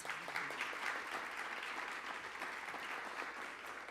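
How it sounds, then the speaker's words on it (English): Audience applause following a thoughtful leadership session at a faith and genomic research event, dense steady clapping throughout from a sizable crowd, moderately distant and without talk. "Let's give them a big round of applause."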